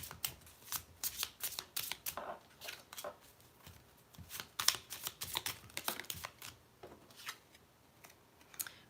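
Tarot card deck being shuffled, a close series of crisp riffling and snapping bursts in an uneven rhythm, with quiet gaps between them.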